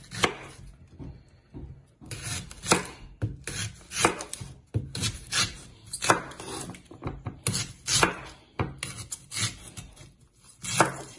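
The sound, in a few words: knife peeling a yam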